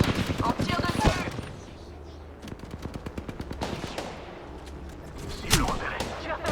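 Rapid automatic gunfire from a first-person shooter, Apex Legends or CS2, in tight rhythmic bursts with sharp louder shots near the start and end, while someone speaks French over the shooting.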